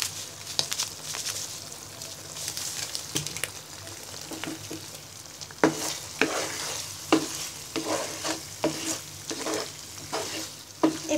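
Homemade Bangladeshi restaurant-style pasta fries and sizzles in a pan, with a steady hiss broken by repeated scraping stirs of a spoon at an uneven rhythm, close and moderately quiet, with no talking.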